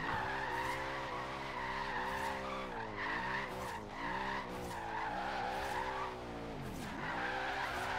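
Tires squeal and skid continuously through a drift in the Forza Horizon 3 racing game, a Lexus RC F engine droning loudly underneath with pitch swings as the throttle rises and falls.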